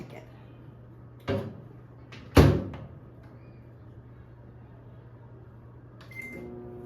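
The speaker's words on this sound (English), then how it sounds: "And now we're going to put it in the microwave." Microwave oven holding a chocolate mug cake: a door clunks shut with a couple of sharp knocks, then a low steady hum runs, ending with a brief beep and rising fan whir.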